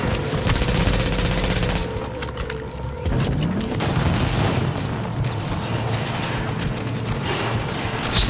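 Rapid automatic gunfire in The Division, a loud sustained burst of fast shots, followed by further bursts and mechanical clatter from the fight.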